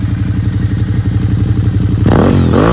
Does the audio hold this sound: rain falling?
no